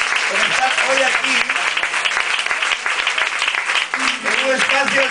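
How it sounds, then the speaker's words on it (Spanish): Audience at a book presentation in Barcelona applauding loudly and steadily, with voices and cheering mixed into the clapping throughout. "un aplauso fuerte para vosotras"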